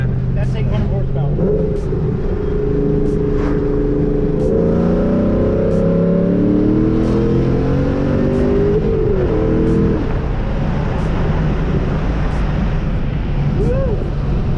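A 2004 Cobra car engine making about 800 horsepower roars and climbs steadily in pitch through the gears on a quarter-mile run, loud and close, with rhythmic ticking clicks throughout.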